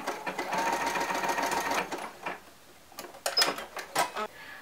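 A sewing machine hems the sleeve of a baby t-shirt, running in a steady close whirring stitch for about two seconds before it slows into a few short bursts and clicks, with no talking.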